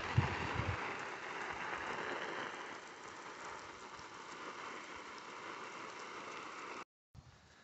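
Water from a garden sprinkler set on a Honda Element's moonroof patters steadily like rain on the car and a tent beside it, a dense hiss heard from inside that cuts out briefly near the end.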